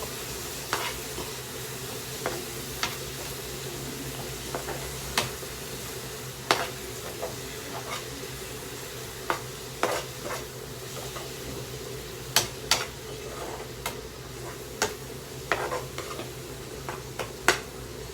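Green chillies and coriander sizzle steadily in a frying pan, with a constant frying hiss broken by sharp, irregular clicks and taps of a spatula stirring against the pan.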